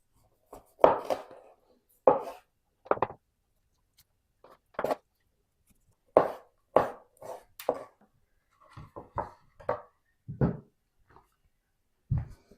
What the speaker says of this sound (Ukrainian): І тепер апельсин буду нарізати невеличким кубиком.